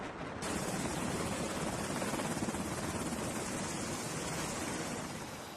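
Helicopter aboard an aircraft carrier, a loud continuous rotor and engine roar with a rapid low chopping pulse, steady throughout the few seconds with no voices.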